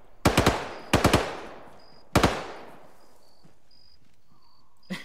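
A vehicle-mounted machine gun on a technical fires in a video game battle: three sharp bursts of two or three rounds each, close and loud, with insect-like chirps in the quiet between.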